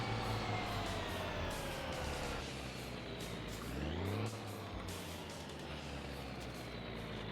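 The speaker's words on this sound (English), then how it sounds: "This is using far too much fuel in this truck." A truck engine drives steadily in the game My Summer Car, making a continuous loud drone that changes pitch as the gears shift, with no voices.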